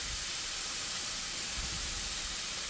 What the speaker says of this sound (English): sorry for the noise above, but I got the fan going because it's getting warm in here.